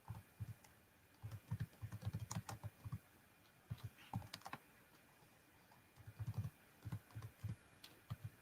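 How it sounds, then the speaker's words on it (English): Computer keyboard typing code in C, quick bursts of keystrokes in clusters with short pauses, close and fairly quiet, no talking. "Let me type it, printf."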